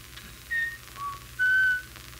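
A man whistles in imitation of a whippoorwill's call in a 1929 film, three short clear notes, the last held longest, over a faint hum.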